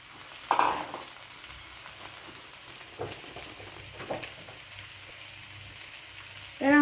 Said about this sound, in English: Then the oil is hot. I'm gonna add my onions.